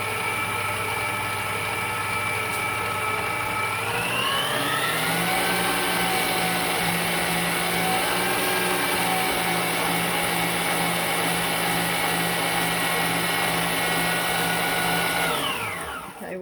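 An electric mixer creams sugar and butter for an old-fashioned four-ingredient pound cake: a steady whirring motor hum runs throughout, speeds up into a higher whine after a few seconds, holds there, then winds down at the end.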